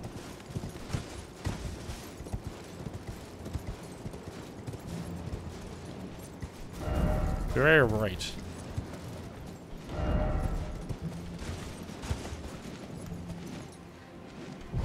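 A horse's hooves clip-clop steadily across the ground in Elden Ring Shadow of the Erdtree, a soft rhythmic patter under game ambience, with a louder swell midway and a brief spoken remark.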